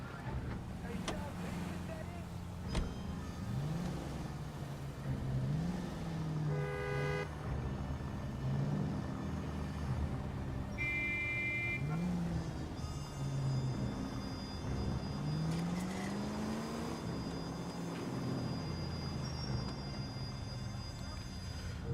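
Car driving in the video game L.A. Noire: a steady engine drone with rising and falling pitch sweeps as it shifts and accelerates, plus a brief horn-like toot, running continuously under someone talking.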